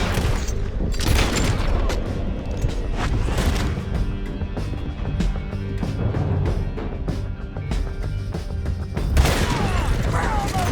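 Gunfire from Red Dead Redemption 2 rattles through a canyon chase in loud volleys and booming shots, continuous under shouting voices.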